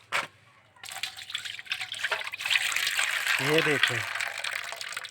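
Water poured into washing powder to work up foam, a steady gushing pour beginning after a moment and continuing under a man's speech.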